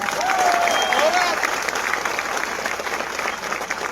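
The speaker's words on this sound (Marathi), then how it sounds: "त्या पोलिसांसाठी एकदा जोरदार टाळ्या होत्या" Loud, sustained applause from a crowd at a gathering in Sambhajinagar, thick clapping throughout with a voice briefly audible over it.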